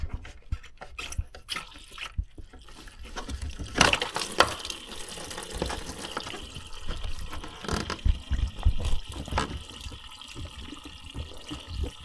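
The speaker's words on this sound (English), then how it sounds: "See, the fluid is draining right into the funnel" Coolant draining from the radiator drain valve of a Chrysler Town & Country into a funnel, an irregular trickling and splashing of liquid, close by, swelling in bursts and gurgling unevenly without any talking.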